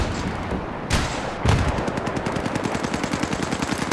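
Gunfire in the video game Battlefield 3, sustained rapid automatic bursts with sharp reports and loud cracks near the start, dense and close throughout.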